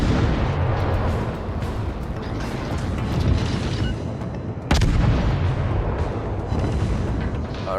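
A German Tier I cruiser, the Hermelin, fires its guns in World of Warships, with loud booming salvos over a dense rumbling battle din and one sharp, heavy blast near the middle.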